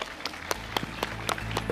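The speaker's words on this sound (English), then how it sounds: "let's give these guys a big round of applause" Audience clapping for panelists at a tech conference session on HTML5: a short, sparse burst of separate, distinct claps from a modest crowd, fairly close and with no talking over it.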